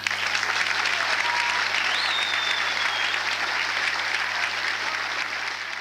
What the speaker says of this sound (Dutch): En ik doe dat graag, maar dan onder luid applaus.